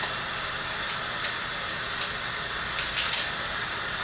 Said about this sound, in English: turn on the cold water and allow the water to flow without splashing